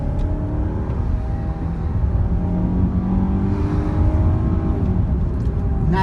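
A car with a 2.5 liter engine accelerating, heard from the cabin as a steady, loud engine drone with slowly rising tones and road noise throughout, and no talking.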